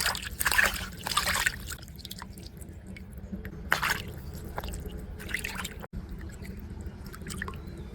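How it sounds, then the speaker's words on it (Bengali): Cut pabda fish being rinsed in water by hand, with soft sloshing, squishing and dripping in a few louder bursts over a quiet background, close up and without speech. "পাবদা মাছগুলো সুন্দরভাবে কেটে নিয়েছি তো চলুন এবার ধুয়ে নেওয়া যাক ভালো মতন ধুয়ে নিচ্ছি"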